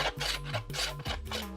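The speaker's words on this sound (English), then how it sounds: "and filing it down." Rasping strokes of a file shaping wood for a tanpura, a handmade stringed instrument, come in a few rhythmic passes, close and steady over soft music.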